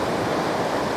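Ocean waves break and wash up onto a sandy shore, a loud, continuous roar of surf and churning water, close and filling the whole moment with no voices.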